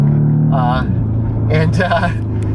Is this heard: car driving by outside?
yes